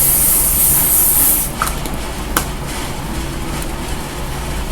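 A spray bottle of wet spray mists a wig, giving one loud, close hiss that lasts about a second and a half. Faint handling noises follow in a quiet room.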